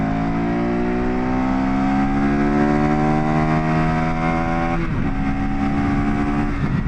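A KTM 390 Adventure R single-cylinder engine revs up steadily through the gear, its pitch climbing until a brief dip as it downshifts, then pulling hard again, loud and close.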